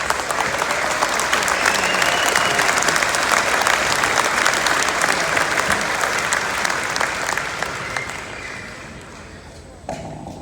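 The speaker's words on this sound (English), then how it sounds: "Please give a big round of applause." An audience welcomes home returning Vietnam veterans with loud, sustained applause that rolls on for several seconds, then fades out, with faint voices mixed into the crowd.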